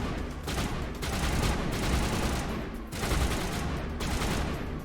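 Sustained automatic gunfire in the video game Mass Effect, a loud, dense rattle of rapid shots in bursts with brief dips between volleys, close and continuous.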